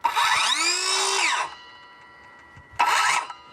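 Einhell cordless circular saw cutting a wooden board: a loud rising whine as the blade spins up and bites for about a second and a half, a pause, then a second short burst of cutting.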